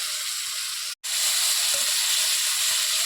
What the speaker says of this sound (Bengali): দিয়ে এটাকে ভালোভাবে কষিয়ে নেবো